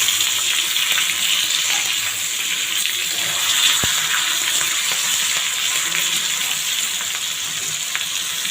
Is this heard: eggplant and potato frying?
yes